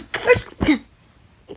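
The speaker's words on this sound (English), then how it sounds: "See, I just sneezed." Two quick, sharp sneezes come one after the other, close and fairly loud, followed by a faint short sound.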